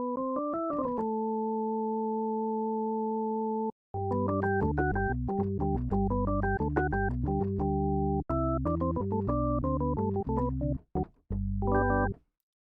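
Pure sine-wave organ tones from a synthesizer: a long held chord, then a lively sequence of clean, hollow chords and melody notes, loud and close with no talking.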